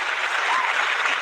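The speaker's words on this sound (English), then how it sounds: "There's shorter sound effects for applause" A short burst of applause played as a sound effect during a live broadcast, a dense, even wash of crowd clapping without individual claps standing out.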